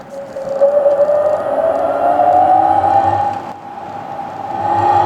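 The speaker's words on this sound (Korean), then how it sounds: "이거는 제트기 엔진이 무화 걸렸을 때 나는 소리예요" A loud, sustained whooshing whine played through the speakers of a Hyundai Ioniq 5 N, slowly rising in pitch like a jet engine, dipping briefly before building again, with no talking.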